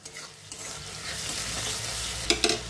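Chopped onions with a pinch of salt fry in hot oil for a mutton korma, sizzling steadily up close while a utensil scrapes and stirs, with a few sharp clinks near the end.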